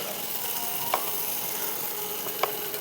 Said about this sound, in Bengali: একটা তেজপাতা, একটু জিরে, গোটা জিরে, পেঁয়াজ দিয়ে ভাজবো যতক্ষণ এটা লাল লাল হয়ে যাবে